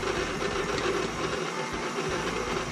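A stand mixer on low speed turns a paddle through flaky biscuit dough with chopped butter, giving a steady, close mechanical whir and low rumble that runs unbroken from start to finish.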